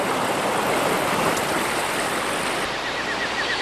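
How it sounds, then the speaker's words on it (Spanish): Cold, white mountain stream water flows fast and loud, a dense rushing roar that stays steady and close throughout, with no voices over it. "Las aguas blanquísimas y muy frías forman primero alegres arroyos, luego riachuelos y finalmente poderosos ríos"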